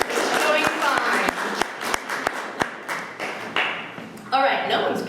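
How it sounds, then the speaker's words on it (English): An audience at a university MFA fiction reading claps between poems, a brief burst of scattered applause with sharp individual claps that thins out and then swells again near the end. "I always wanted to get a little clapping between the poets too"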